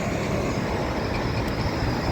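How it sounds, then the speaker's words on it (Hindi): A GO local commuter train rolls past in Malton, Canada, a steady loud rumble of wheels and cars on the rails throughout, with no voices. "ये लोकल ट्रेन यहाँ से जा रही है सामने से,"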